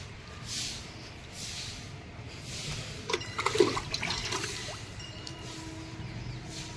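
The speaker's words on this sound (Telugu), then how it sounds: "వాటర్ ట్యాంక్ క్లీన్ చేస్తున్నారు అనమాట." Water splashes and gushes as a rooftop water tank is cleaned, a quiet wash rising to a burst of sloshing in the middle before settling back to low hiss.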